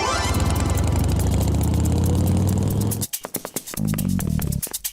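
Cartoon motorbike engine revving loudly and continuously, then sputtering into choppy bursts and brief pops before picking up again.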